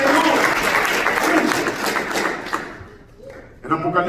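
A church congregation claps together in a dense burst of applause that fades out. A voice comes in near the end.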